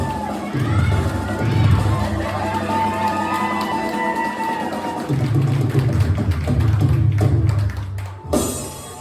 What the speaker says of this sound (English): How about a big round of applause for our rock band?